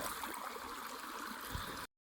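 Irrigation water gushes steadily through a farm channel fed by a pump motor, a continuous close rushing and gurgling flow with no voices, cutting off abruptly near the end.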